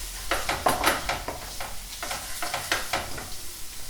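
A spoon stirs vegan bolognese sauce in a pot after a bay leaf goes in, making rhythmic wet squelching scrapes over a soft steady sizzle.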